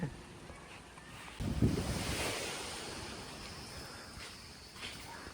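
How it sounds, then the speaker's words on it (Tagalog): Surf rolls in on Aninuan Beach in Puerto Galera, a rough sea with waves washing ashore, one surge swelling loudly and then fading under gusty wind noise. "Dito tayo ngayon sa Aninuan Beach."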